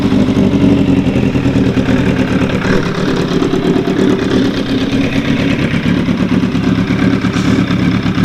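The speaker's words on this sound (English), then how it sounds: "I might as well fire it up for you guys. Get her warmed up." A carbureted motorcycle engine, choked and cold, runs at a steady loud idle after starting, with a continuous close-up rumble and slight knocking texture throughout.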